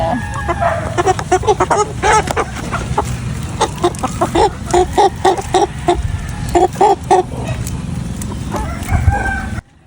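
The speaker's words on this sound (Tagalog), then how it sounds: "Nakadakop na og tulo ka manok." Chickens cluck in quick, bursty bunches over a low rumbling background, fairly close, with no one talking, ending abruptly.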